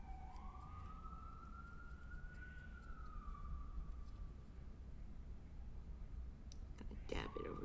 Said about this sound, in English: sirens are so fucking loud